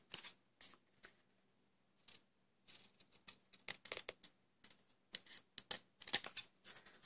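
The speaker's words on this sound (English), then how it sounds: "I'm going to use my large scissors for this." Large scissors snip through card in a run of short, crisp cuts, irregular and close, with brief pauses between them.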